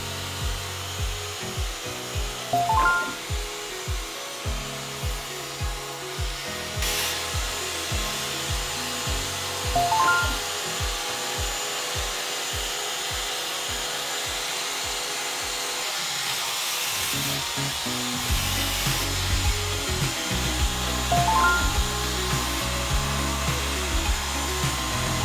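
An Ecovacs T9 robot vacuum cleaner runs across a floor scattered with obstacles such as cables, socks and water spots, its steady whir broken by repeated bumping and scraping sounds as it maneuvers.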